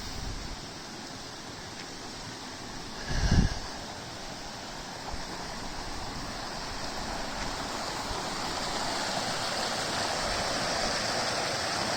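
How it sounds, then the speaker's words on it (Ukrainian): A mountain river in the Tatras rushes steadily, a broad, continuous roar of flowing water heard close and alone, with one brief louder splash or gust partway through. "Ось хочу вам показати гірську річку."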